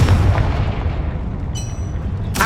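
A Confringo fire spell blast from Hogwarts Legacy on PC erupts as a loud, deep boom with a rumbling tail, followed near the end by a sharp bright crackle.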